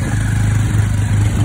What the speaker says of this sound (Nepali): दुईवटा बाइकमा एकदम रफ्तार छौँ